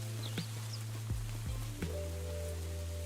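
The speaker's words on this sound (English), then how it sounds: "Oh, it's raining now." Rain falls in Farming Simulator 25 as a steady, even patter under the low drone of a vehicle driving along a mountain highway, with a few brief clunks and tonal shifts.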